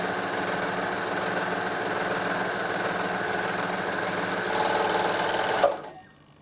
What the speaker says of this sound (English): So I might flute this edge.